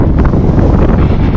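Strong, loud wind on the Lofoten Islands in Norway blasts across the microphone in a dense, unbroken roar that fills the whole moment with no pauses and no voices.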